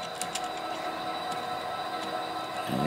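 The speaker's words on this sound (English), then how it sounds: "we're going to shove it back with our two boxcars too" A switching locomotive shoves two boxcars back during local freight work, giving a steady rumbling roll with faint metallic squeals and a rising noise near the end, heard without voices.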